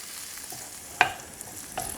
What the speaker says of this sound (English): And we got a little sizzle going now.